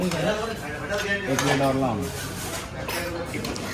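Plates and cutlery clink and clatter in a home setting while people talk over the handling, with busy dish sounds continuing throughout.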